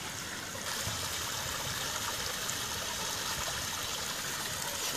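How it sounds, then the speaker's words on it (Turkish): A stream in a botanical park in Eskişehir flows steadily, a continuous close, full rush of water with gentle trickling and no voices over it. "Şırıl şırıl suları akıyor."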